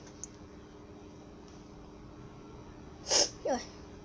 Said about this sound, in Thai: ใช่ทีนี้ไม่ไอแล้วมาเป็นจามแทน